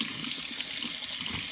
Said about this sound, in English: right now I am getting the hot water